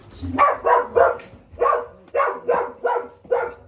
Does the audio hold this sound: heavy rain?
no